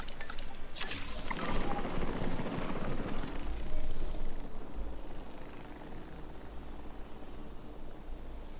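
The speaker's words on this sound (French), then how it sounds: "Détachement du drone." A drone detaching in Jurassic World Evolution 3, heard as a steady whirring, rumbling drone with a brief rising swell near the start before it settles into a continuous mechanical hum.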